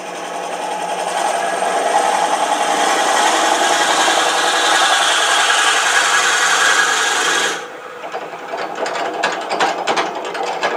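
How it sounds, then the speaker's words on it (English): Drill boring into spinning wood on a lathe to hollow a bud vase, a loud steady grinding rasp with a chattering ratchet-like texture that cuts off abruptly near the end, leaving quieter scraping clicks. "I'm going to go ahead and start drilling now to make it a little easier to scoop out the mouth"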